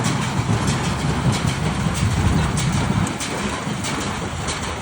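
A straw baler hitched to a tractor works a field in intense heat, giving a loud, steady mechanical rumble with a rattling, rushing texture that holds evenly throughout, with no voices.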